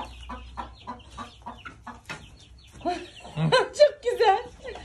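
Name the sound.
rooster crowing and clucking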